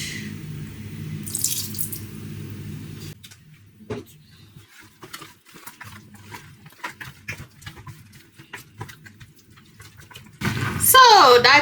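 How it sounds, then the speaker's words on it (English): Soy sauce is added to a chicken wing marinade. Scattered small drips and light splashes sound close by, mixed with intermittent voice and a brief louder clatter at the end. "Then I'm gonna add a bit soy sauce,"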